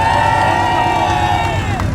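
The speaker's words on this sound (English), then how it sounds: "cheer for me now" Crowd cheering at a car show sound-off during a supercar weekend, a continuous loud wash of voices with engine noise beneath it.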